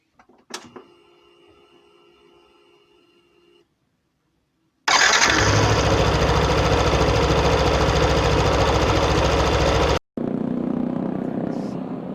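A motorcycle running on a city road after a workshop visit, a brief engine start followed by a loud, steady roar of riding and wind with short pauses, no talk.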